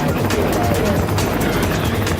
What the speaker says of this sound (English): 2 Black Hawk helicopters carrying a team of US Navy SEALs are approaching a compound in Abbottabad, Pakistan.